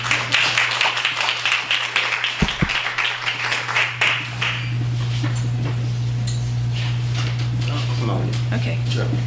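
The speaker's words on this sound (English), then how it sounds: "Let's please give her a warm round of applause." A live audience at a bookstore author reading gives a warm round of applause for the writer, dense clapping filling the first half before fading into a quiet room hum.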